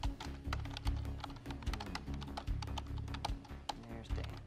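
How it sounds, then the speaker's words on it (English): Rapid keyboard clicking from a computer keyboard, dense irregular taps layered over steady game music and background sound, moderately close but not prominent. "Keyboard clicking."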